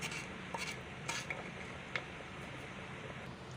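A spoon stirs spice masala through a dish in a cooking pot, faint scraping and light clinks of metal on the pot with soft sizzling underneath, a few sharper taps standing out.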